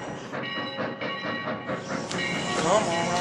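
A train rolls past on the tracks with a rhythmic clickety-clack, a steady hiss and a brief squeal near the end, all close and fairly loud.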